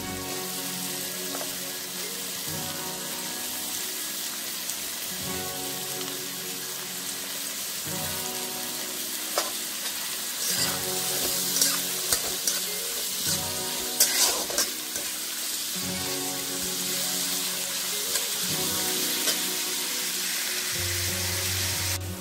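Onion and capsicum fry for Schezwan fried rice, with a steady sizzle in the pan and repeated scraping strokes of stirring close by.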